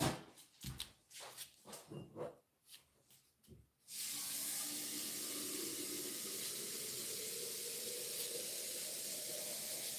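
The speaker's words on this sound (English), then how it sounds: "Must be using your gurgle pot." Water gurgling and rushing from a gurgle pot, starting after a few seconds of scattered clatter and knocks, then flowing as a steady, fairly close hiss that runs evenly to the end.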